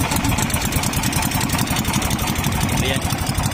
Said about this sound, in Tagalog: Lakas pala ng makina to.